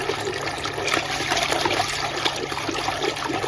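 A SHYSKY DC50K-24160S 24V DC brushless micro water pump with 14mm ports pushes water, making a steady close trickling, splashing flow over a faint constant hum.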